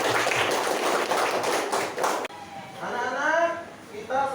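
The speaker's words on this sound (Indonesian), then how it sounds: "Tepuk tangan untuk kita semuanya." A classroom of students in an Indonesian school claps in a short burst of quick, uneven hand claps, which stops abruptly before a teacher's voice takes over.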